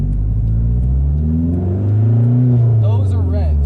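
A manual car's engine revs up in neutral, close and loud, the pitch climbing and falling in a single smooth swell, with a brief voice heard over it near the end.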